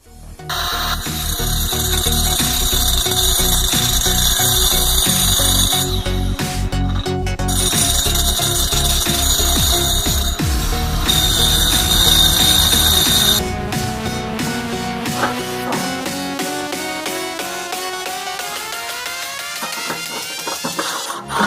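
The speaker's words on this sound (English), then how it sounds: "keep using this rigid diamond coated metal cutting blade on my Milwaukee Fuel angle grinder" A Milwaukee Fuel angle grinder with a diamond-coated metal cutting blade runs loud and close, a steady high whine that changes pitch partway through as the blade cuts and then winds down, no talk.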